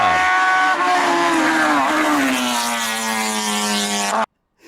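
An Alpine A110 sports car engine roars loudly and close, its pitch climbing and then sliding down as it revs and eases off, before cutting off abruptly.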